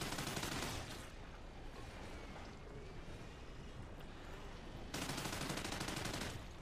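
Sustained rapid gunfire from the video game Call of Duty: Ghosts Extinction, loud and dense at the start, easing through the middle, then surging back in a fast continuous burst near the end.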